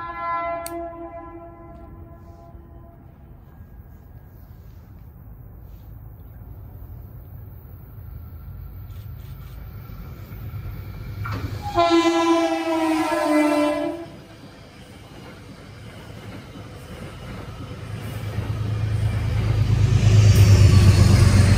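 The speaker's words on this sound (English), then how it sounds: "Next to come in is Metro North's Conrail Heritage Unit, trailing on a southbound train heading for Grand Central." A Metro-North train horn sounds in long steady blasts, then another short loud blast, followed by the growing low rumble of a southbound train led by its Conrail heritage locomotive approaching and passing close by.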